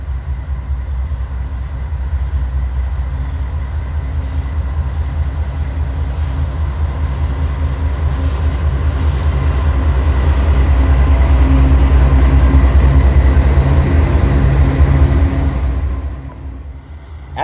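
A Norfolk Southern freight train rolls through Citico Junction in Chattanooga with a loud, continuous rumble and rail roar. Steady wheel clatter builds gradually, then fades near the end.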